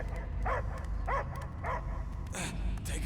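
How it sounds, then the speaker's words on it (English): A dog gives three short, evenly spaced barks, followed by a higher yelp, over a low rumbling background. "I hear only barking"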